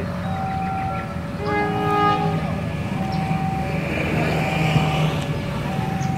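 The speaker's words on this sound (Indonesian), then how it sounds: "dari arah timur akan segera masuk kereta api dengan lokomotif CC206" A diesel train hauled by a CC206 locomotive rumbles into a station in Indonesia while its horn sounds in several tonal blasts over the steady rolling noise of the approaching locomotive.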